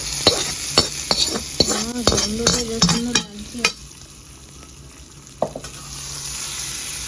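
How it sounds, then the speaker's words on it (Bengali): Fried spices being stirred into Nepali chukauni make light scraping clicks and soft sizzling close by, with a person briefly talking partway through before quieter cooking sounds return. "এবার ভাজা মশলা আমি দিয়ে দেবো এখানে"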